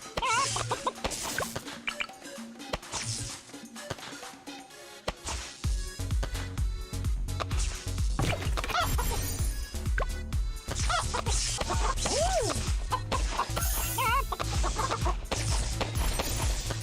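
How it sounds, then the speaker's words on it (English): Farm chickens in the video game Bloons TD 6 cluck repeatedly beneath busy game sound effects and music, the clucking scattered and moderately loud throughout. "Hope you guys aren't getting annoyed by the chickens."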